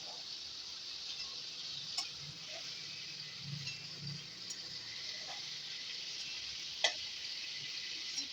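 Prawns frying gently in hot oil, a soft steady sizzle with faint occasional pops and small clinks, fairly quiet and continuous with no voices.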